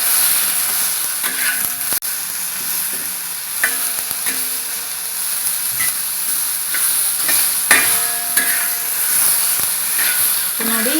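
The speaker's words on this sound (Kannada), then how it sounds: "ಇದು ಟೊಮೆಟೊ ಚೆನ್ನಾಗಿ ಫ್ರೈ ಆಗಬೇಕು." Tomatoes fry in a pan with a continuous hissing sizzle, broken by occasional clinks and stirring knocks and a brief faint tonal beep near the end.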